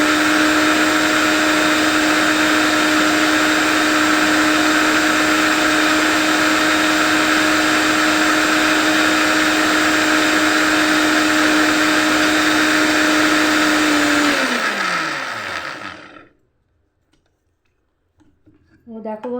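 An electric grinder whirs steadily at high speed grinding poppy seeds for posto, a loud continuous motor drone that winds down and stops near the end, followed by a brief faint rattle.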